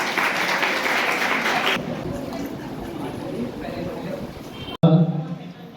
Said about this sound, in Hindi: सभी लोग जोरदार ताली बजाएं।